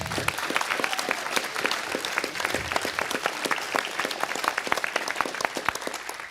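Audience applause at a Las Vegas City Council meeting, a steady wash of many hands clapping together, moderately distant and sustained without a break, with no voices over it.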